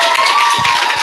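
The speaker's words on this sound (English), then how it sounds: "Can we have a big round of applause?" A book club audience claps and applauds, a dense, loud wash of many hands filling the room throughout.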